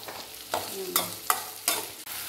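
Whole spices such as cinnamon, cloves and cardamom sizzle and crackle in hot oil, with a few sharp stirring scrapes in the pan at a steady, uneven pace.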